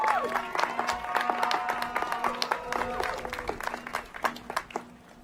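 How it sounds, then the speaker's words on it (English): Applause from an audience at a performing arts college graduation ceremony, steady clapping from a large crowd that stays moderately loud throughout, with a sustained musical tone running beneath it and no speech. "You are owed a tremendous debt of gratitude and deserve a huge round of applause."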